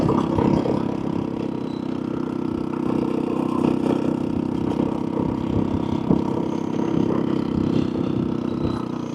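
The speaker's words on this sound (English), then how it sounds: "Engine braking." A scooter engine braking on a road gives a steady, droning mid-pitched hum with light mechanical clatter and wind rush, heard close and fairly loud throughout without speech.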